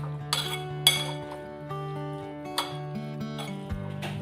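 Cucumber salad ingredients tossed in a bowl with a spoon, giving a few sharp, close clinks against the bowl's side over a steady musical background.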